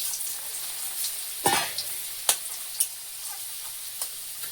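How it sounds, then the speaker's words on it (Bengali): Potatoes fry in oil with burnt cumin, a steady low sizzle in the pan broken by a few sharp scraping and tapping stirs, close and without talk. "আলুটা লাল করে ভেজে নিচ্ছি"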